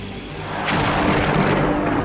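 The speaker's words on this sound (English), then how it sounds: "When the bug senses a threat, the chemicals are mixed in the explosion chamber," A sound effect for a beetle's defensive chemical explosion: a loud, rumbling boom swells after a moment and keeps roaring steadily, with no voices.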